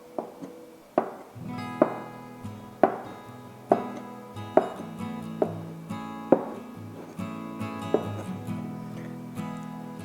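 A knife chops through homemade pasta dough, cutting it into small cubes: about a dozen sharp, evenly spaced knocks on the board, close and clear over light background music.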